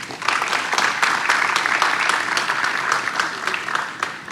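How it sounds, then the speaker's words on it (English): A large conference audience at a business event on AI breaks into steady, dense applause, with many hands clapping together at an even level from start to finish. "A big round of applause for him."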